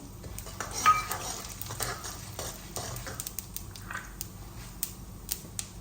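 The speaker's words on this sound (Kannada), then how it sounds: "ಇದಕ್ಕೆ ಇವಾಗ ಎಳ್ಳು ಹಾಕ್ತಾ ಇದ್ದೀನಿ. ಸ್ವಲ್ಪ ಮೆಂತ್ಯ ಹಾಕ್ತಾ ಇದ್ದೀನಿ." Sesame and fenugreek seeds frying in a pan for South Indian hagalkayi gojju, a soft steady sizzle with scraping stirs and light clicks of a spoon against the pan, close and moderately quiet.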